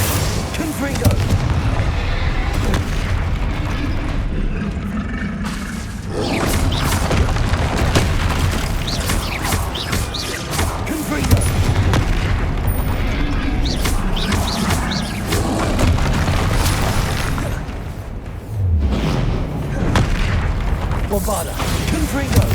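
Spell explosions in the Hogwarts Legacy video game, a dense run of heavy booms and crashing blasts going on without pause, loud and layered over battle noise.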